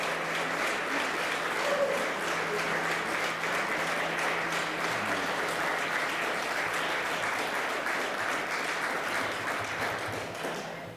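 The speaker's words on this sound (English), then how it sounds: "A round of applause." Sustained applause from a large conference audience at a closing session, dense and steady clapping that continues throughout and tapers only slightly at the end.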